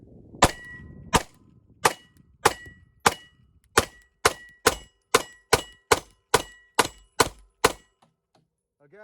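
A Glock 43x pistol fed from an S15 magazine fires HST rounds: about fifteen loud, crisp shots at a steady, fairly quick pace, then a short quiet tail.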